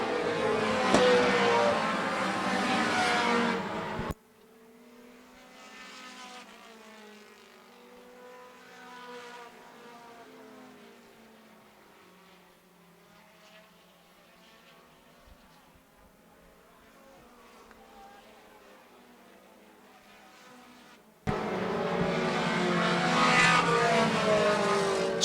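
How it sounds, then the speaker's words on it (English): Outlaw mini race cars in a heat race on an oval track make loud engine roars as they pass close at the start and the end, with a fainter, more distant engine drone in between. "they're going to get the white flag this time for the Outlaw mini heat race."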